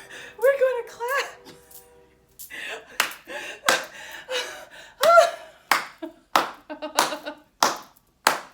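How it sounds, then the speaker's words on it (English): Hands clap in a laughing yoga session, with sharp claps in short bursts, some fast and some spaced, mixed with breathy laughing and gasping voices nearby. "Now we're going to clap."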